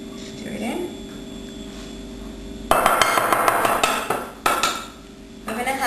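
Metal spoon stirring baking powder into flour in a bowl for Jamaican dumplings, a run of clinking and scraping strokes close up, loudest in the middle stretch with short pauses between bursts.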